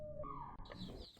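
Young native (desi) chicks about seven days old, gathered before Lasota vaccination, give high chirping peeps over a constant low background rumble, several calls overlapping through the short stretch.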